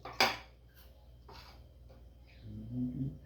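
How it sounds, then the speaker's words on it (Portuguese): Knife cutting cabbage on a plate for an improvised home lunch, a few sharp clinks and scrapes against the dish, close and quiet, with sizzling kitchen background. "Cortar o repolho."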